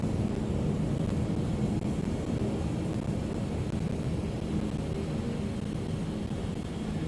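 A DC-3 propeller airliner in Microsoft Flight Simulator climbs with gear and flaps up. Its engines give a steady, loud, even drone with no breaks or talking.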